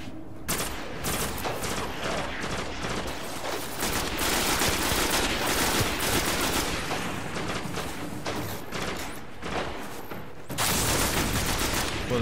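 Dense, continuous rapid gunfire from sniper rifles and other weapons in the video game Destiny, with sharp cracks and booms packed close together for most of the stretch, a brief lull, then another loud burst near the end.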